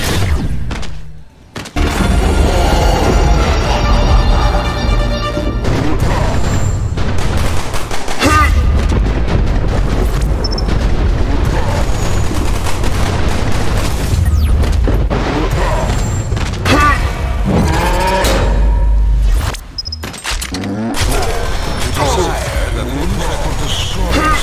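Rifle fire in the twin-stick shooter Black Future '88, loud and nearly continuous with booming blasts and layered game effects, broken by two short pauses, while someone talks over the action.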